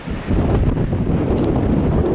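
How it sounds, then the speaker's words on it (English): Strong wind roars steadily against the microphone, a dense low rumble that barely lets up, strong enough to knock over a motorbike. "Oh man, it's so windy today."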